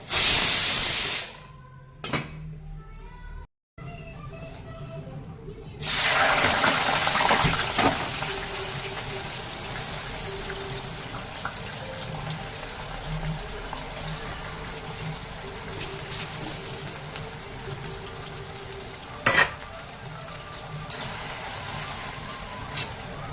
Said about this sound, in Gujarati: બટેટા ફ્રાય થઈ ગયા છે.